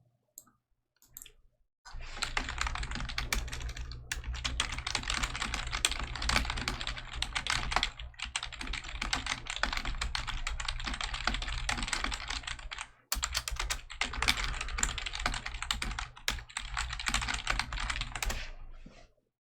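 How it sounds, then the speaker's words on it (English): Rapid, continuous typing on a computer keyboard, dense clicking keystrokes close to the microphone in long bursts separated by a couple of brief pauses, with no voices. "I'll let you type it up for me here."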